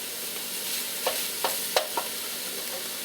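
Garlic sizzling in a pot of bell pepper, celery and onion, a steady close frying hiss with a few brief stirring scrapes over it.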